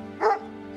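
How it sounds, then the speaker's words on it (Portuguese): A single short dog bark or yelp, fairly close and clear, from a dog stranded in floodwater in Rio Grande do Sul during an animal rescue. "Muitos cães acuados, presos em meio aos alagamentos"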